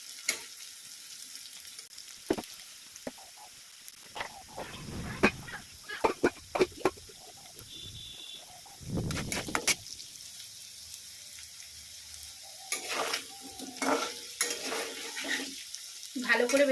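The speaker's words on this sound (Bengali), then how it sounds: "ভালো করে ভেজে নিতে হবে।" Ingredients for a fish curry with potato, eggplant and taro fry in hot oil, giving an irregular, close sizzle broken by sharp clinks and scrapes of stirring in the pan, with no speech.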